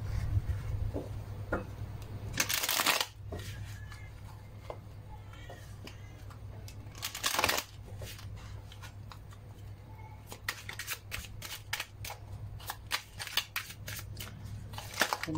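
Tarot cards being shuffled by hand, with two loud riffling bursts and then a run of quick, close flicks and taps of cards against a low steady hum.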